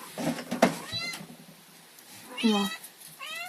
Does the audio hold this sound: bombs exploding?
no